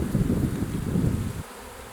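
Honeybees hum in a dense, low buzz from an open hive during a spring check with emerging brood, close and steady for over a second before the sound thins out.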